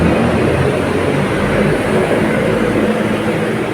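A loud, steady roar of a light rail train rumbling past close overhead on a city street, continuous and droning without a break.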